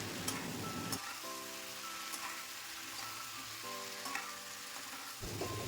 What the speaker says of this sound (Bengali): সমস্ত সবজির সাথে পুঁই শাক খুব ভালো করে নাড়াচাড়া করে মিশিয়ে নেবো